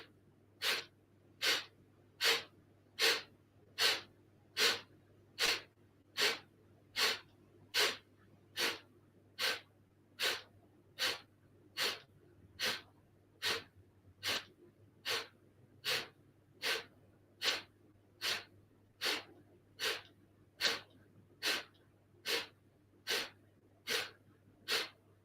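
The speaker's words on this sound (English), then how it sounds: "in and out through the nose, forceful exhale" Breath of fire during chair yoga: about two dozen sharp, forceful nasal exhales in a steady rhythm roughly one per second, close and clear over a quiet background hum.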